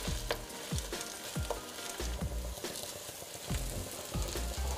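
Zucchini fritters fry in a thin layer of oil in a pan, sounding as a soft, quiet sizzle broken by repeated light taps and scrapes from pressing and moving them.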